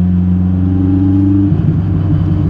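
A Renault R5 Turbo 2 out on a road with traffic, its engine droning loud and close in a steady low hum, then shifting and climbing as it picks up speed under acceleration.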